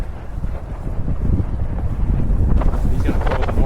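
Strong, gusty wind roars across the microphone while wing foiling on Pittwater with Naish ADX and DW Crossover gear. The buffeting builds after the first second and stays loud, with water splashing and hissing toward the end.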